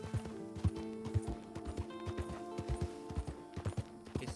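A Fortnite horse trots with steady clip-clopping hooves, a regular series of close, punchy low thuds over a faint tonal game background hum.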